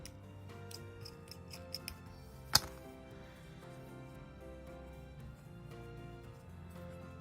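Scissors snipping chunky crochet yarn: a few faint small clicks, then one sharp, crisp close cut standing out against a quiet indoor background.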